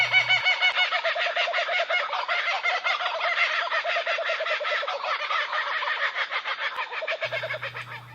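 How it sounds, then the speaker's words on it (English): A kookaburra's loud laughing call, a long run of rapid rising and falling cackles that carries on steadily for several seconds with no talk, set beside a billabong. "They have a loud call that sounds like they are laughing."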